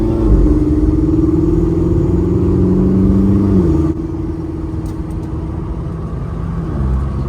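A Volkswagen with a turbo engine drives along, its engine droning and rising in pitch under acceleration, then easing off around midway into a lower, rumbling cruise.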